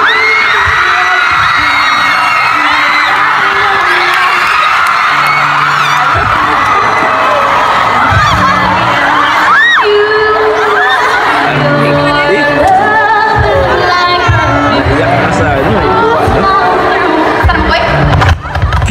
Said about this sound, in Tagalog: Grabe, sigawan yung mga tao.